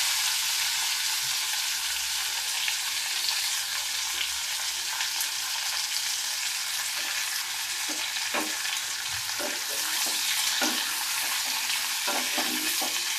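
Chopped papaya fries in hot oil with a dense, continuous sizzle, joined by scattered scraping and tapping as a spoon stirs the pan. No one speaks.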